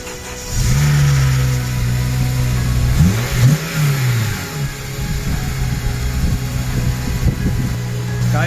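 A Honda Civic Type R hot hatch cranks and fires up loud and close, then settles into a steady idle broken by several sharp throttle blips and revs.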